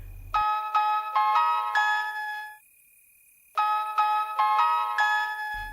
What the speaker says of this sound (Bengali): রাতের বেলায় হঠাৎ ফোন বেজে ওঠে।